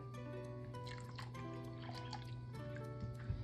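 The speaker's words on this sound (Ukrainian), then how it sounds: "До нього виливаємо молоко." Milk poured into a bowl for a yeasted pumpkin dough, a steady liquid trickle and drip heard close up over low kitchen background hum.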